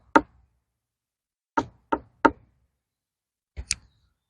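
Knuckles knock on a ripening watermelon in a vegetable garden to judge ripeness, giving crisp, hollow raps: a single knock, then three quick ones, then a closely spaced pair, with silence between.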